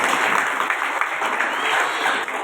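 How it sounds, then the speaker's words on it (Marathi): Crowd applause at a Marathi kirtan gathering, a steady wash of many hands clapping close and loud, with a little background voice. "तर तुकाराम भाऊसाठी टाळ्या वाजवा"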